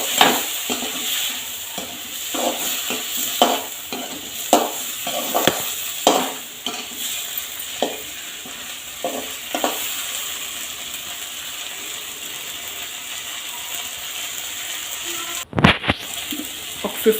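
Brain fry cooking in a pan with salt and turmeric, a steady hiss of sizzling oil beneath repeated scraping clicks of a spoon stirring against the metal, close and fairly loud throughout.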